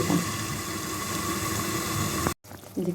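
Curry simmers in oil in a covered pan with a steady, fairly loud bubbling hiss that stops briefly, then returns, while a voice murmurs briefly at the start and end.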